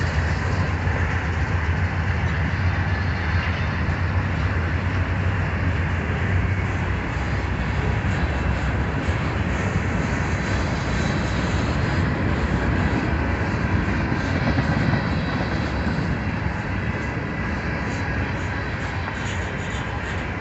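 A CSX freight train rolls past as a steady, dense rumble and roar of rail cars and wheels, loud and continuous the whole time without a break.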